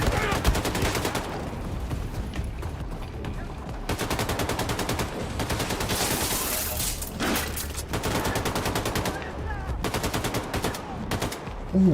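Sustained gunfire in Wolfenstein II: The New Colossus: rapid automatic bursts rattle almost continuously, loud and close, over game music and effects, with a player's voice occasionally heard.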